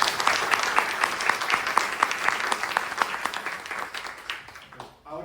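Sustained audience applause at a book presentation in Mexico, dense clapping filling the room for several seconds before tapering off near the end, with a faint voice underneath.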